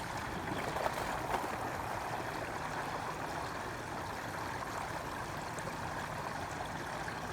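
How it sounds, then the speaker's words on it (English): Steady rushing and gurgling of water draining from an opened RV black tank during a flush, a continuous broadband flow held at even loudness throughout. "We're going to go ahead and open up the black tanks."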